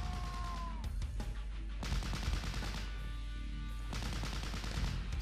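Gunfire in the World War II tactics game Close Combat Cross of Iron: sharp cracks and rattling bursts of rifle and machine-gun fire, some close and some farther off, coming in clusters with no talk.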